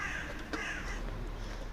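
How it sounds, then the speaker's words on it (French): Crows caw outdoors, one harsh call standing out near the middle over a steady background hiss. "Les Corneilles qui connaissent Monsieur Sojo"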